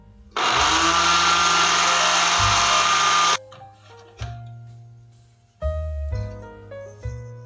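A kitchen blender whirs loudly for about three seconds as it grinds bread into crumbs, then stops, followed by a few short pulses and clinks from the jar.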